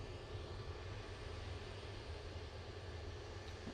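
A Jet2 Airbus A321neo departs Manchester Airport, its engines producing a steady, distant broadband roar that holds evenly throughout with no voices.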